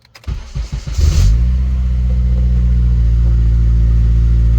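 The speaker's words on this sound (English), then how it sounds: "Let's go ahead and start up the car." A stock 8th-generation Honda Civic Si starts with a short cranking stutter, catches with a brief rev, then settles into a steady, close, even idle.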